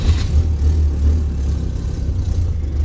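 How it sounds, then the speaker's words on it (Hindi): A car engine rumbles low and steady close by, a continuous heavy idle-like drone with slight pulsing and no clear catch, heard alone without voices; the car was having trouble starting. "गाड़ी स्टार्ट कर रही हूँ"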